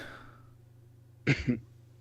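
A man coughs twice in quick succession, close and fairly loud, against a quiet background hum.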